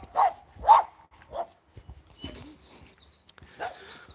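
A dog on a farm with a wild boar nearby gives two sharp, close barks, then softer yips and rustling.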